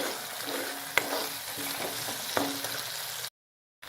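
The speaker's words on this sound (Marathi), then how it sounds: "आपल्याला हे पूर्ण मस्त ह्याच्यात परतून घ्यायचं आहे" Mashed roasted eggplant sautéed in oil with crushed peanuts over low gas for vangyache bharit, a quiet sizzle with a few spatula knocks and scrapes, then an abrupt cut to silence.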